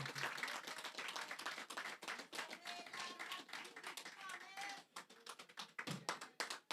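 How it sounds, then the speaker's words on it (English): Residents at an outdoor land handover ceremony in La Guerite, Basseterre, give themselves a round of applause: dense, steady crowd clapping throughout, close and lively, with a voice speaking briefly over it. "Please give yourself a round of applause"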